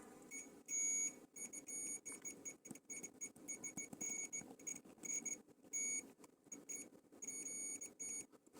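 A multimeter in continuity mode beeps repeatedly while probing pins on a video game circuit board, with short and long tones in an irregular pattern over a quiet workbench background.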